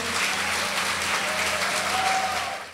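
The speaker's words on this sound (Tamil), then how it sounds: "நெல்லை கார்த்திகா ராஜா ஒரு உற்சாகமான கைத்தட்டலோடு வாங்க" Sustained applause from an audience welcoming a speaker at a Tamil-language Women's Day debate forum, steady and fairly loud for the whole stretch with no talk over it.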